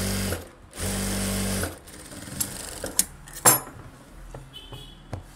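A sewing machine runs fine, short stitches along a blouse back piece, loud close whirring bursts that start and stop, followed by lighter clicks and handling noises.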